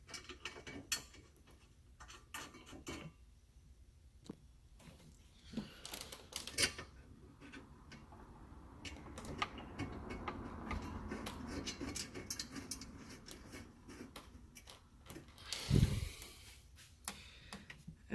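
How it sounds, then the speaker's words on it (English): Four 10mm bolts are screwed back into the battery area of a 2001-2006 BMW X5, with faint, irregular ratcheting clicks and small metallic handling noises and no talking. "grab all 4 of your 10mm bolts, screw them back in"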